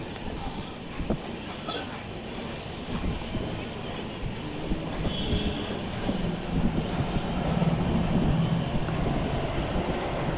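A slow train rolls along past mango orchards, a steady close rumble of wheels and carriages with faint rhythmic clatter, and a voice is heard talking over it.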